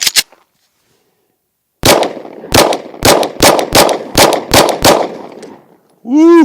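Eight 9mm pistol shots fired at a lightweight level IV body armor plate, loud sharp cracks in an uneven rapid string after a short pause, followed by a brief shout.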